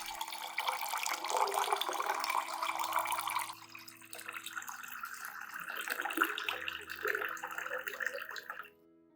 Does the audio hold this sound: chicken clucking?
no